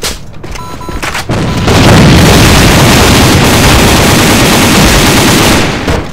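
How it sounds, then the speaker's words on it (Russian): A thrown grenade bursting in the online shooter AVA, a loud, sustained roaring blast that swells after a few sharp shots and rumbles on for several seconds amid battlefield noise. "Бросаю гранату!"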